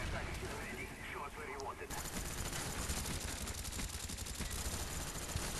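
Rapid gunfire rattles through a first-person shooter match in dense, continuous bursts like automatic weapons, loud and close throughout, with a shift partway through into heavier, more crowded firing.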